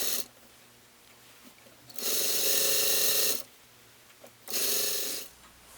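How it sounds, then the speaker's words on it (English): A serger runs in two loud bursts of several seconds each, with quieter pauses between them, as it stitches along the waistband of a chiffon skirt. "I'm going to take this to my serger and serge all the way around."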